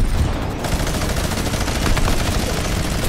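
A minigun fires nonstop in Fortnite Battle Royale, a loud, dense, unbroken roar of rapid gunfire that fills the whole stretch with no break.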